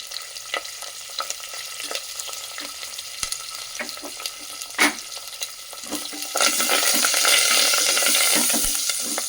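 Onion with turmeric cooks in a pan, starting as a soft crackle with scattered clicks and stirring knocks, then swelling into a louder, steady sizzle.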